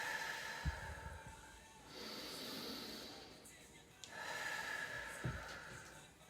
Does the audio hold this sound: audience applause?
no